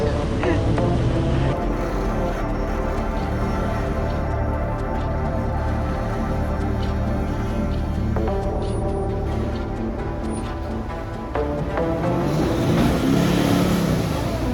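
A four-wheel-drive vehicle climbs a steep dirt track at Gunshot Creek on Cape York, its engine a loud, steady drone that rises and strains at times throughout.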